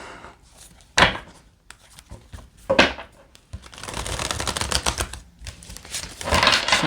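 Tarot cards being shuffled by hand, with sharp riffling bursts, brief pauses and a longer stretch of rustling, close and moderately loud, with no talking.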